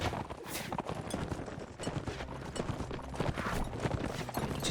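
Horse hooves clip-clop rapidly through a Warsword video game battle during an invasion of Transylvania, mixed with dense clashing, crackling combat noise and a brief whinny, continuous and fairly loud.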